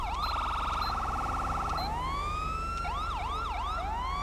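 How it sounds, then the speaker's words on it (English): A police car siren in GTA 5 with the LSPDFR mod plays loud and close, first a steady tone, then a long wail, then a fast yelping sweep over a low engine rumble. "We'll also show you the sirens."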